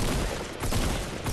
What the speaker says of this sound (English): I missed a ton of my shotgun shots right there